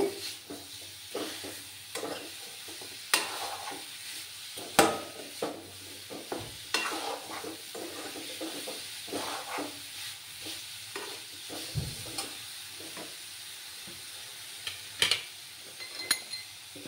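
Coconut filling stirred and fried in a pan, a soft steady sizzle under repeated scraping strokes and occasional light clinks of a utensil against the pan, close and fairly quiet throughout.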